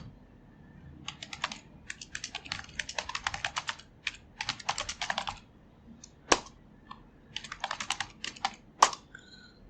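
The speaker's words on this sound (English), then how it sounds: "going to your keyboard and hitting the down arrow key" A computer keyboard typed on in quick bursts, dense clicks broken by short pauses and a few louder isolated keystrokes, close and clear with no voice.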